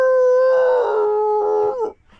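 Dogs howl in a long, sustained, wavering call that swells, holds steady and then tapers off into silence. The howl is close and loud, with no talk over it.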